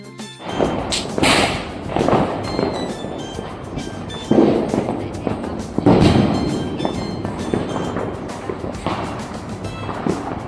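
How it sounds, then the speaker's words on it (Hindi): Firecrackers set off by children below in a residential colony during Diwali, heard as a series of sharp cracks and bangs at irregular intervals, some loud and near, others fainter, amid outdoor background noise. "कॉलोनी के बच्चे नीचे पटाखे वगैरह जला रहे थे"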